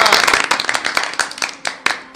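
An audience at a school annual function claps: a dense burst of hands at first that thins into separate, louder single claps as it fades, with a voice briefly heard underneath.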